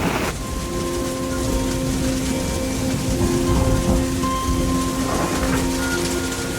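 Steady rain pours in the hills at Thanchi, Bandarban, beside the Sangu river, a dense even hiss of drops on surfaces with a low rumble underneath, continuous throughout and with no voices.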